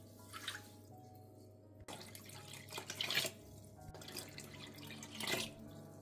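Water pours into a large pot of sugar to make bakllava syrup, a soft running trickle with a few brief louder splashes, quiet and close with no talking.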